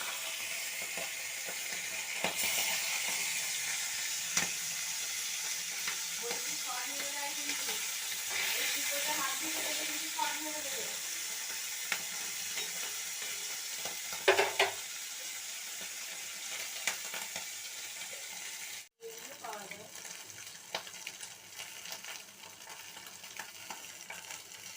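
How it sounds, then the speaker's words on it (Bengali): Tengra fish fry in hot oil in a wok, a continuous hiss and sizzle with scattered crackles and stirring knocks, faint and fairly close, and a sharp drop near the end. "তারপর মাছগুলো একটু লাল মতো করে কড়া করে ভেজে নেব।"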